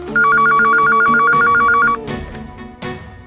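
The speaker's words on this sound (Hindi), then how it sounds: "फोन लगाओ पुलिस स्टेशन" A telephone rings loudly at a police station, a steady warbling electronic ring for about two seconds, followed by a couple of short clicks or bumps with no voices.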